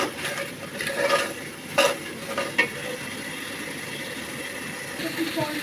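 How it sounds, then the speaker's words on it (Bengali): Green chilies sauté in a pan for a chicken halim, giving a soft, steady sizzle with a few light stirring scrapes and utensil taps early on, close and fairly quiet. "কাঁচামরিচ দিয়ে দিলাম। এগুলো একটু কষিয়ে নিতে হবে।"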